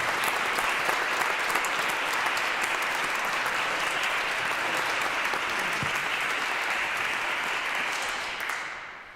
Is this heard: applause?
yes